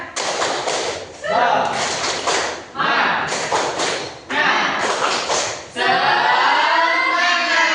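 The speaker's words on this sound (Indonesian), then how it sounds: "Tepuk semangat." A class claps out a rhythmic spirit cheer in close, loud bursts of quick claps, with short pauses between the rounds.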